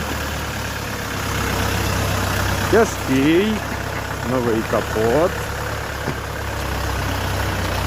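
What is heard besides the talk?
Dongfeng 404 tractor engine running, 40 hp four-cylinder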